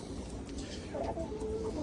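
Short, soft clucks come from a young rooster whose glossy, green-tinted tail feathers are just growing in. The clucks are brief and quiet against a constant low background rumble, and a voice can be heard faintly.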